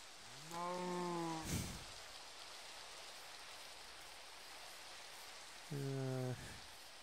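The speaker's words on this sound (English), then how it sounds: "Hate when the rain won't fucking stop." Steady rain falls in Minecraft as a constant soft hiss, broken twice by short tonal game-like sounds.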